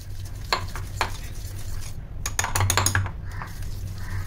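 Softened room-temperature butter with caster sugar beaten in a bowl for a strawberry pie, giving repeated scraping, clinking strokes against the bowl at a close, steady pace.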